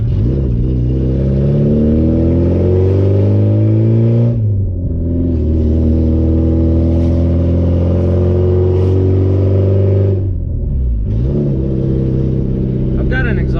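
A Porsche 944 four-cylinder with straight pipe exhaust and a quick shift kit revs hard through rising gear pulls, loud and close from inside, with two brief drops between shifts.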